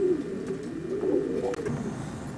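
Racing pigeons in a loft cooing steadily, a low continuous murmur of overlapping coos with a few louder swells, close by and without talk.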